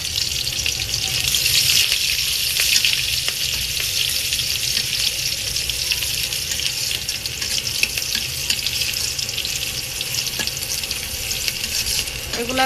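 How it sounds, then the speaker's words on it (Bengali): Chopped garlic, onion and green chili fry in a pan as they brown for a curry, a steady loud sizzle with occasional stirring, and no voices. "এগুলো একটু বাদামি করে ভাজি নিব,"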